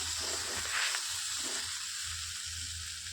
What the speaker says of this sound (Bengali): এখানে আমি আদা আর পটল একটু ভালো করে আবারও ঢাকা দিয়ে দিয়ে ভেজে নিচ্ছি।